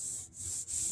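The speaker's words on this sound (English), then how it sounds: "I'm going to try to sand those flat and without going through the original finish" Wet sanding with 400 grit paper on the original finish of a Luna Dragonfly acoustic guitar, a steady close abrasive rubbing with two brief pauses between strokes, no voices.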